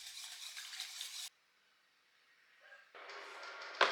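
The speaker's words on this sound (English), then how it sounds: "Give everything a quick mix." Ice cream base of milk powder, salt and water briskly stirred in a pot, a dense scraping swish lasting about a second, then a quiet pause and another burst of stirring ending with a sharp clink.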